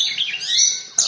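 Bushlark (branjangan) chirping up close, with bright, high warbling phrases running continuously and a sharper chirp near the end, heard alone with no talk.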